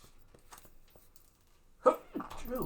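A sharp, sudden sneeze bursts out after a quiet stretch, followed right away by someone talking.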